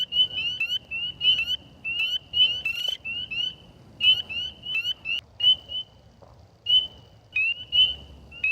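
Spring peeper frogs call loudly and close by, repeating high, piercing peeps in quick bursts against a quiet background.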